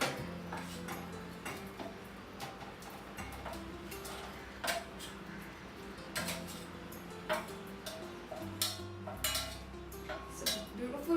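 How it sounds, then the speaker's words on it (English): Carrot, tomato, red and white pumpkin pieces dropped into a pot of South Indian sambar, heard as a run of light clinks and taps of utensils against the pot, close and fairly quiet, with no talk. "now we add all the vegetables and the dal which we pressure cook"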